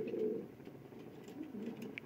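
Soft, low pigeon cooing murmurs continuously, fairly faint, with a few light chirps and rustles around it.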